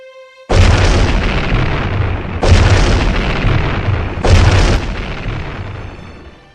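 A volley of gunshots is fired in three separate, heavy booming blasts, each loud and close and trailing off into a long, rumbling decay before the next.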